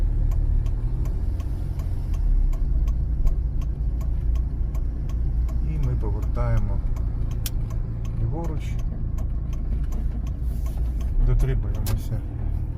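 Car left turn signal clicking at a steady regular pace inside the cabin during a driving exam route in Ternopil, under engine hum, with an instructor talking over it.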